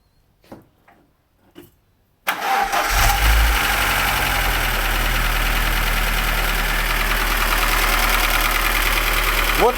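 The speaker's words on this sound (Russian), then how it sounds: "после сборки появился вот такой отдельный стук." Lada Niva engine after a full overhaul, with a new chain, reworked valves and reground head, starting up and then idling steadily, a persistent separate knock in its running; brief clicks come before the engine catches, which stays loud and close.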